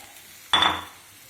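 Egg-dipped bread hits hot ghee in a pan with a sudden sharp sizzle that fades over about half a second, close and clear with no talk.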